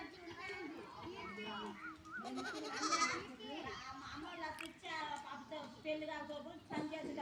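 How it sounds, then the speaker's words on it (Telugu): Baby goats bleat in a village yard amid excited children's chatter, with several short quavering cries rising over the voices at close range. "ఎందుకో దా మేక పిల్ల చూడండి ఫ్రెండ్స్."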